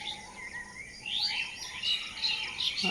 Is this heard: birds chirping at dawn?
yes